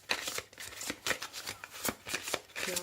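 Archetype oracle cards being shuffled by hand, a close, soft run of rapid papery riffles and flicks in quick bursts, fairly quiet and with no talking.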